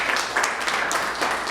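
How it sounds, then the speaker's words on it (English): An audience at a poetry reading breaks into steady, moderately loud applause that runs throughout the moment after a poem, with no break in the clapping. "You don't have to clap."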